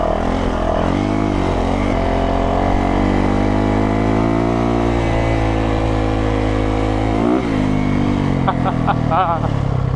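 A dirt bike engine, compared against a Yamaha YZ450 and Honda CRF, holds a steady loud drone while riding over a stretch of whoops, with the pitch swelling and dipping as the rider works across the bumps, and a voice talks over it.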